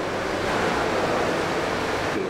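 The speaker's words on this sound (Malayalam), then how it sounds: "വെള്ളം ഒഴിക്കുന്നു." Water is poured onto a bathroom floor tile in a steady, loud, unbroken rush. The gushing stays even throughout, close to the microphone, with no voices.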